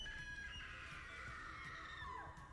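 A woman's long, wavering scream from the video game Resident Evil 9 rings out faint and distant, holding its pitch before sliding downward at the end.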